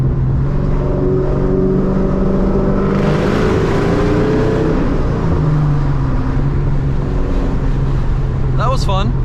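A supercharged Terminator Cobra with a Borla Stinger exhaust and aggressive cams revs loudly close by, its engine note rising and falling with supercharger whine before settling into a rumbling idle.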